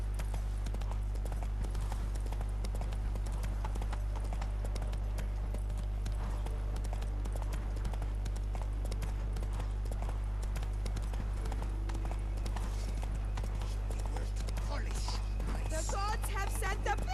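Geralt's horse Roach gallops in The Witcher III: Wild Hunt, a fast, even clip-clop of hooves carrying on steadily beneath a low game soundtrack, with someone talking over it.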